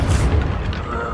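The Confringo spell explodes in the video game Hogwarts Legacy, a loud low-pitched boom with a deep rumbling body that fades over about a second.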